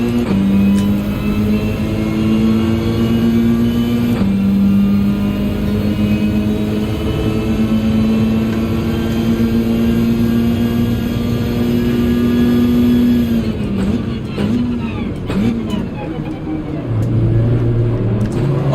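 Peugeot race car engine in the Gran Turismo 7 racing game, a loud steady drone that climbs gradually in pitch, drops at a gear change around four seconds, then eases off and shifts near the end.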